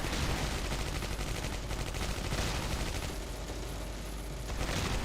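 Heavy gunfire from the World War II Stalingrad battle game Close Combat Cross of Iron rattles in a dense, continuous barrage of overlapping shots and bursts, loud and unbroken throughout.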